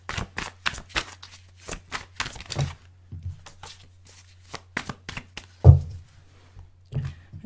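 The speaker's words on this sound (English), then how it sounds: "One more shuffle." Tarot cards being shuffled in a series of quick, crisp riffles and taps, close up, with a louder thump near the end and no talking.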